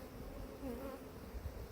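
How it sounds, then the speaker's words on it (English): Bees hum faintly around an open hive under inspection, with possible robber bees present. A quiet, continuous buzz runs through the brief moment with no voices. "There's bees leaving this hive with white sticky stuff."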